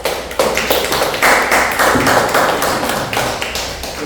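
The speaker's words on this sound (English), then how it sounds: "Please give him a round of applause." Audience at a club meeting gives a round of applause, close, dense hand clapping that is loud and steady throughout with no talking.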